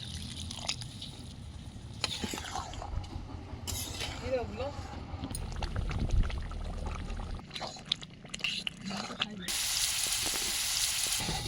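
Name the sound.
onions frying in desi ghee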